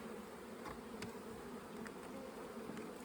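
Honey bees drone steadily in a small salvage colony, a close, continuous buzzing hum with a few faint brief ticks and no voices.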